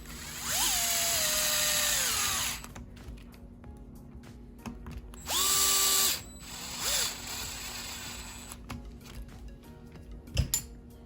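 A power screwdriver drives screws to mount a sway bar bracket on an Arrma Typhon 6S RC car, whirring in two clear bursts and then a brief third spin, with quiet clicks and handling noises between them.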